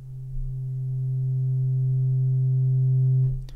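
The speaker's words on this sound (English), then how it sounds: "So right now that sine waveform sounds like you would expect it to" A pure sine tone from the oscillator of Ableton's Drift synth, with the resonance turned all the way down, holds one steady low pitch for about three seconds at moderate, even loudness before cutting off.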